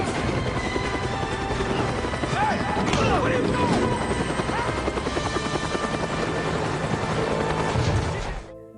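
A helicopter's rotor and engine roar continuously in a tense film scene, loud and close, with brief shouts and other action sounds layered over the steady thrum.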